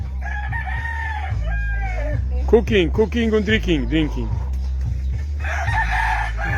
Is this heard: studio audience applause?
no